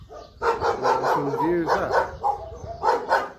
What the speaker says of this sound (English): A lot of dogs around here, so sorry about that noise.